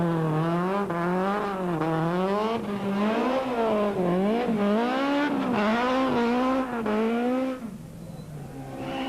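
A rally car at Cape Rally 2001 takes a farmyard left-hander too fast and spins to face the wrong way. The engine revs loudly and wavers, tyres scrub and skid, then it drops off abruptly near the end.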